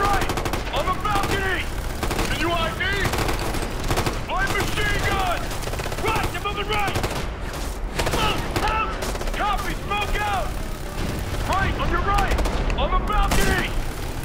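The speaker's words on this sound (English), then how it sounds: "Machine gun!" Rapid machine gun fire in the Ghost Recon Future Soldier video game, sustained bursts of loud gunshots repeating throughout over constant battle noise, with people talking beneath.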